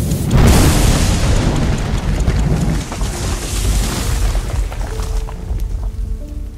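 An explosive device goes off amid soldiers at a military training exercise, a loud, close boom that rolls out into a long rumbling decay and fades over several seconds.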